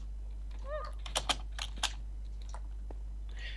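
Keys clatter on a computer keyboard during a Minecraft session: a handful of sharp, close clicks bunched in the middle, then a few lighter taps over a steady low hum, with no talking.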